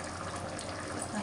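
Tamarind juice pours in a brief, steady liquid stream into goat head curry, close and fairly loud, with a small splash at the end.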